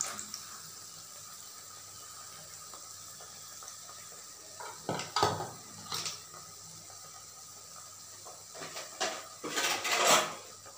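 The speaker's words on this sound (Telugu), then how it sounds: "ఇప్పుడు ఇవి ఫ్రై అయిపోయినాయి మనం ఇప్పుడు సర్వింగ్ బౌల్లోకి తీసుకుందాం" Fried raw banana bajji tipped from a pan into a serving bowl in a home kitchen, with clinks of metal utensils and dishes knocking together in scattered bursts that grow busier toward the end.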